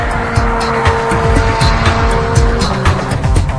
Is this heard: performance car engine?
yes